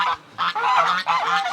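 Geese honk on a pasture where one sits on a nest, giving three loud, close, nasal honks in quick succession with brief gaps between them.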